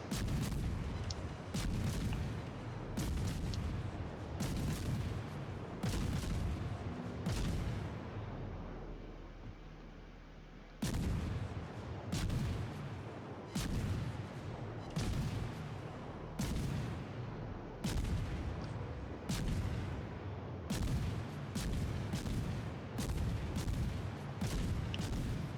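Rapid gunfire in the World of Warships naval game, where a Friesland warship fires its guns in bursts of loud, sharp booming shots, with a brief pause in the middle before the firing resumes.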